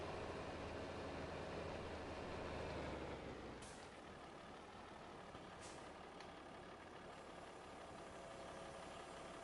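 A truck in a farming game rumbles with a steady engine drone, a louder low growl easing off after a few seconds, followed by quieter idling broken by two short hissing air releases, with no talking.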